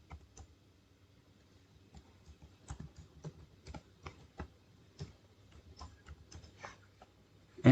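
Keys on a computer keyboard clack in quick, irregular bursts as a password goes in, the individual taps close and fairly quiet over a faint low hum, with no voices.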